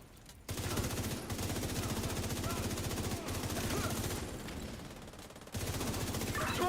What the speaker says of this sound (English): that gunfire?